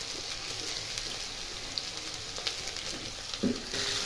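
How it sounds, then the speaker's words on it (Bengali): Chopped onions fry in oil with cumin and mustard seeds, giving a steady crackling sizzle with light stirring scrapes and small pops, close and alone. "পেঁয়াজটাকে ভালো করে আমি এখানে লাল লাল করে ভেজে নেব।"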